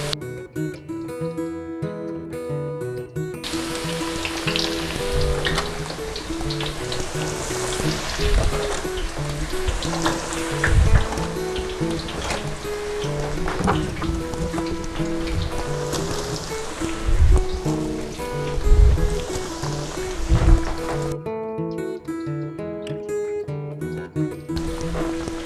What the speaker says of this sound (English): we're going to go ahead and add the eggplant and Karela